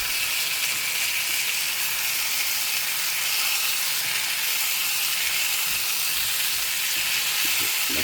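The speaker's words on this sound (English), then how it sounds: "oh, look at that simmer, I tell you" Catfish and shrimp with Texas seasoning sizzle steadily in a hot pan, a continuous loud hiss of bubbling oil that never lets up, with no talking.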